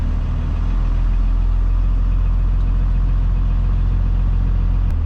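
A 12-valve Cummins truck backs up in reverse, its diesel engine a loud, constant low drone with a heavy rumble and very little variation.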